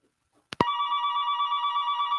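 An incoming telephone call announced by a sharp double click and then a steady, loud electronic ring that pulses evenly, alone and close.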